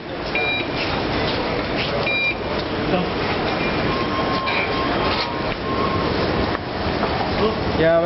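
Train pulling out of Canary Wharf station on the London Underground, a steady rumbling roar with brief beeps, heard fairly close under excited talk from people on the platform.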